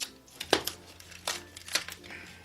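Plastic blister packaging around a classic western cowboy pocket knife is crinkled and pulled apart by hand in a few sharp, close crackling bursts, with quiet talk around them.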